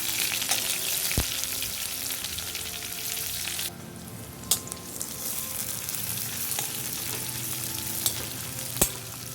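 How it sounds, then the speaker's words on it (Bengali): Crushed garlic and a medium onion frying in oil for Bengali masoor dal, a steady close sizzle that drops in level partway, punctuated by sharp spoon knocks against the pan, with no talking. "এবার এই পেঁয়াজ রসুনটা আমি খুব ভালোভাবে ভেজে নেব, একদম লাল করে।"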